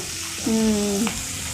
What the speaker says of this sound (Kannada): ಸೊ ಇದನ್ನು ಹಾಗೆ ಒಂಚೂರು ಮೆತ್ತಗಾಗೋವರೆಗೂ ಫ್ರೈ ಮಾಡ್ಕೊಳ್ಳೋಣ